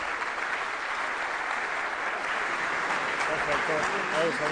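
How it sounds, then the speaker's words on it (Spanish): An audience applauds panel speakers at the 13th Foro Económico del NOA, a continuous wash of clapping from a large room that holds steady and swells slightly toward the end, with some talk beneath it. "Les pedimos un fuerte aplauso para los disertantes de este panel"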